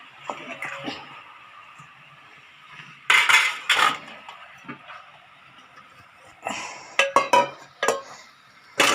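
Tomatoes and vegetables being stirred in a pan for veg macaroni, with bursts of utensil scraping and clinking against the metal pan, separated by quieter gaps.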